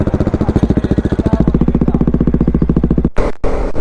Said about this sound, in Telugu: డీబీ కిల్లర్ పెడితే ఎంత తక్కువ సౌండ్ వస్తుంది చూడండి.